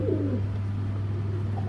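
Giribaz pigeons give a soft, low coo near the start over a steady background hum, followed by quieter murmuring.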